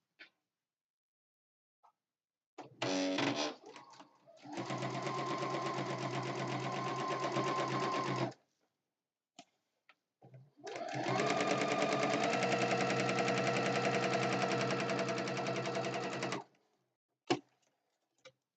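A sewing machine top stitches upcycled napkins for a quilt, running in two long steady bursts of fast, even mechanical whirring separated by a pause, close and clear with near silence around it.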